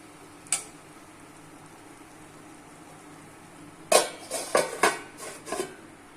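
Lid set over a pan of small-fish chachchari, a single faint knock early on, then a cluster of close metallic clanks and rattles as the lid settles, over a quiet background with no voices.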